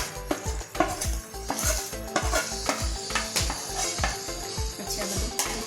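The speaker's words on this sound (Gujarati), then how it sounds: "પછી આ બધું મિક્સ કરી દઈશું" A spoon stirs fried paneer cubes through thick palak gravy in a pan, giving close, repeated scraping knocks against the metal in a steady rhythm over a soft sizzle, with no voices.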